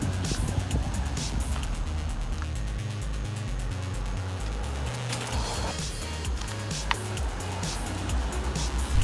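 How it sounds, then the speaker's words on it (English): A Mercedes CLK500 convertible out on the road gives a steady, continuous low engine and road drone with wind rush, holding an even level throughout with no clear talk. "my favorite thing about this Mercedes is the way that it drives."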